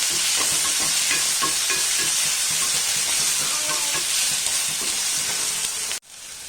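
Chopped tomatoes for macaroni sizzle loudly in a hot pan as they are stirred, with a dense, steady frying hiss and scraping, ending abruptly near the close.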